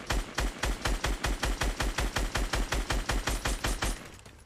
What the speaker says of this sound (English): help me shoot that tree down.